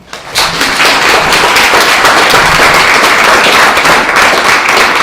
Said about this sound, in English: I'd ask you all to give them a round of applause.